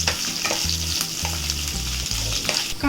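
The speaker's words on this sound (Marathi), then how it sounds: "कांदा आपला चांगला लाल झालाय" Onions frying in a spoonful of oil in a pan until browned, a steady loud sizzle with stirring scrapes and low clattering knocks throughout, no voices.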